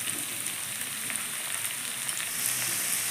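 Tomato, ginger paste and slit green chillies sizzle steadily in a hot pan, a continuous bright frying hiss with faint crackles throughout and no voices.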